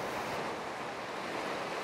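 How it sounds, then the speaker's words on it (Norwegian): White water rapids on the Trysil river heard from a boat, a steady broadband rush of churning water, mid-level and constant with some wind noise on the microphone. "Og som dere ser så er det ganske mye hvitt vann."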